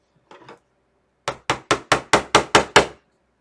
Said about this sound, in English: what I'm going to do is pound my nail in there.